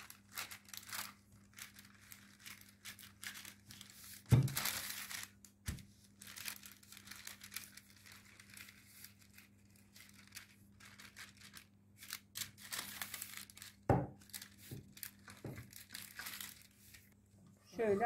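Parchment paper crinkles and rustles between sheets as cake dough is rolled out with a rolling pin, coming in close bursts of crackling under a faint steady hum, while a person speaks at times.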